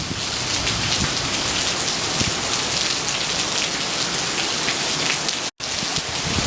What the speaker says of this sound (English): It has been raining for days on end.